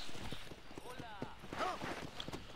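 Horse hooves clip-clop at a steady walking pace in Red Dead Redemption, quiet and somewhat distant, with someone talking over them.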